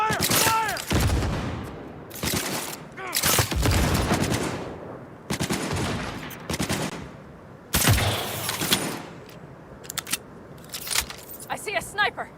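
Gunfire in Cyberpunk 2077 comes in repeated bursts of rapid shots, loud and close, broken by short pauses, with voices shouting between the volleys.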